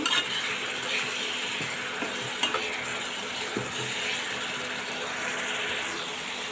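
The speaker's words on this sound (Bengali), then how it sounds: "এবার চিংড়ি মাছটাকে সুন্দর করে কষিয়ে নেব" Shrimp sautéed with chili powder crackle and sizzle steadily in a pan, broken by occasional close clinks and scrapes of a spatula being stirred through.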